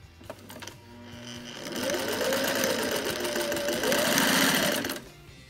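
A Singer 600E sewing machine runs as its pedal is pressed. The motor winds up from a soft start into a loud, steady, close hum with rapid needle chatter, then cuts off near the end, with no speech.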